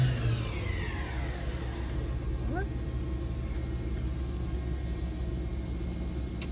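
The spindle of a 2013 DMG Mori Seiki DMC 635V Ecoline CNC vertical machining center spins at 8,000 RPM, giving a steady, close, even hum over a low rumble.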